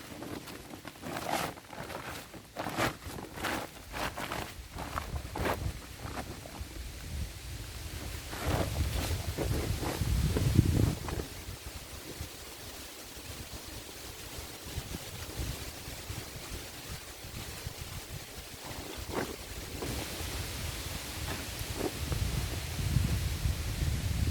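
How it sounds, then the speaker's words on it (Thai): Strong gusting wind blows outdoors at a rubber plantation where latex cup lumps are being collected by hand, a steady roar with louder surges, continuous and fairly close to the microphone, with no one talking over it. "ลมก็แรงแรงนะคะ"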